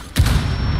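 A frag grenade in a video game goes off as one sudden loud boom that cuts in sharply, then settles into a rumbling, hissing tail lasting under a second.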